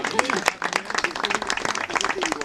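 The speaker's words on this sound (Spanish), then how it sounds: "Un aplauso al lector, por favor." A group outdoors claps for a reader who has just finished, a lively, uneven burst of handclaps with voices talking and calling out over it throughout.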